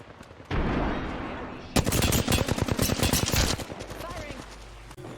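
Rapid bursts of video game gunfire in a squad battle, a dense automatic volley with sharp repeated cracks that dominate for a couple of seconds and then break off into a quieter tail.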